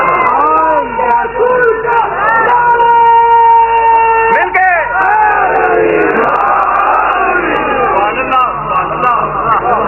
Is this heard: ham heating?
no